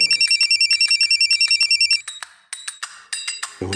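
A telephone rings loudly and close in a rapid, evenly pulsed electronic trill, then shifts to an irregular pattern of sharp beeping tones, with a brief sound cutting in at the end.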